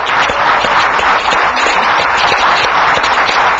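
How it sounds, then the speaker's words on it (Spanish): Dense applause from a large studio audience at a Venezuelan presidential television broadcast, honoring President Correa, a continuous loud roar of clapping that holds steady throughout. "Un aplauso al presidente Correa."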